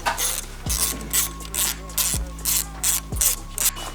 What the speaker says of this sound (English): We're gonna pull off these two bolts, one nut off this little shield right here.